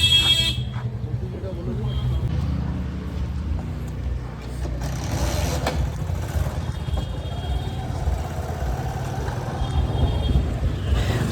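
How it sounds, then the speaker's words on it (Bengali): Riding pillion on an Ola bike taxi through Kolkata at night, with a constant rumble of traffic and road noise, occasional horn toots and electronic beeps, while a person talks over the ride. "বাইকে চেপে পড়েছি এবং বাইকে করে বেরিয়ে পড়ছি"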